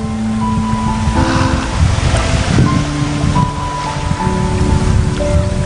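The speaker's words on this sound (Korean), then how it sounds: "지금 이 잔잔한 가운데 들리는 파도 소리 들리시나요?" Gentle ocean waves wash continuously at a quiet Korean seaside spot, a steady broadband surf roar with faint tonal hum layered over it and no talking.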